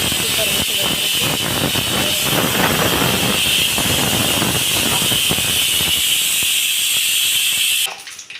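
Mustard seeds spluttering in hot oil while tempering for home cooking, with a loud, steady sizzling hiss full of dense crackles and pops that cuts off abruptly near the end.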